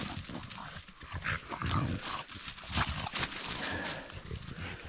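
A hunting dog moving close by through forest brush, with rustling, sniffing and scattered short sounds; no people talking.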